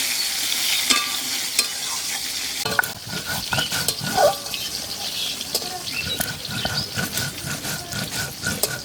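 Potatoes frying in a pan for a Bengali crab curry, a steady close sizzle with frequent scraping stirs and clinks of a spatula throughout, no voices.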